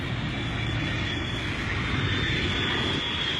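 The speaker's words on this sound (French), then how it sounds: "regarde là-bas, il y a un avion" An airplane passes overhead outdoors, its engine a loud, continuous broadband roar that holds steady throughout with no voices over it.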